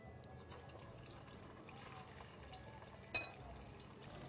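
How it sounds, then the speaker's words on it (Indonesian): Marinated food fries in hot oil in a home kitchen, a low continuous sizzle and bubbling hiss with a brief sharper spatter or clatter partway through, fairly quiet. "minyaknya sudah panas, ini juga sudah dimarinate. Sekarang kita goreng."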